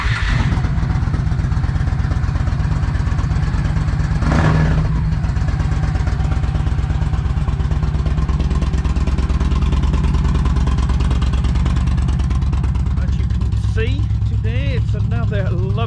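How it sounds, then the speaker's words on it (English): Yamaha Midnight Star motorcycle engine warming up outdoors, a steady loud low idle rumble that holds throughout, with a brief swell partway and some faint background sounds near the end. "I'm going to warm the bike up a little bit"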